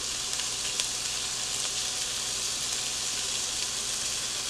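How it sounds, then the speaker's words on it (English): Onions fry in a pot for a chili mac and cheese soup, giving a steady, fairly quiet hiss and crackle with a few brief pops and stirring sounds, with no talking over it. "We're going to cook this down another minute or so until the onions are nice and soft"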